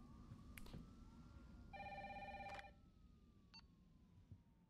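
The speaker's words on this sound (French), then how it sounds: "Et le téléphone il sonne, super." An electronic telephone rings in the survival horror game Resident Evil 3: a single loud, bright burst of ringing over a quiet background hum, followed by fainter tones.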